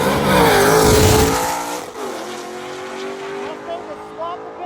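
Ford Mustang with swapped pistons making a drag strip pass at Big Sky Race Week, a loud engine roar sweeping up through the gears then fading into the distance, with a commentator talking over it.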